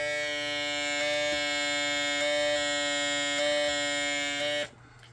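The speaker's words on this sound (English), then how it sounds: "if I put my finger over this hole, in theory, you should hear that pump sound change." A small electric water pump inside a German Type 212 RC submarine hums steadily with a bright, tonal whine, shifting slightly as its intake hole is covered by a finger, then cutting off abruptly near the end.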